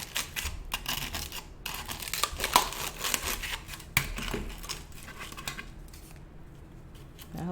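Scissors snipping through craft material at a tabletop, a steady run of close, crisp cutting and crinkling sounds over low room noise.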